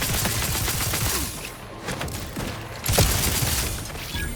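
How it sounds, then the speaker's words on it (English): Gunfire and a burst in the video game The Outer Worlds 2 as a grenade is shot, a loud dense crackle of shots and explosion noise running through the whole stretch, swelling again toward the end. "Did I just shoot that grenade?"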